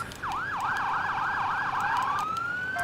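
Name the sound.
fire company rescue pickup truck siren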